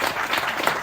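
Brief, dense applause from an audience at a festival talk, honoring the parents, a continuous wash of many hands clapping at moderate loudness.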